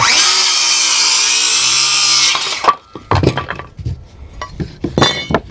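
A power saw runs at full speed through wood for about two seconds while cutting 13.5-inch studs for raised bed planter walls, then stops abruptly, followed by scattered clinks and knocks of lumber being handled.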